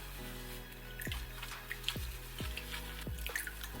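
A dirty makeup brush is washed with soap, giving soft wet squishes and a few sharp drips and splats up close, quiet and with no voices.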